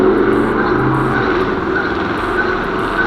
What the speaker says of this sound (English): I was trying to let that truck pass because it was pretty loud